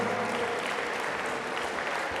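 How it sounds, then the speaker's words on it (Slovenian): A crowd claps at a sports awards evening celebrating the athlete of the year and a sports institute's 25th anniversary, giving a dense, even, sustained round of applause that fills the hall from start to finish. "Dajmo en velik aplavz, kar pridite na oder."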